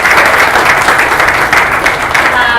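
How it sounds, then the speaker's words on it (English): A full round of applause from an audience at a talk event, loud, close and dense clapping that holds steady for the whole stretch, with faint crowd murmur beneath. "So we can give them also a round of applause."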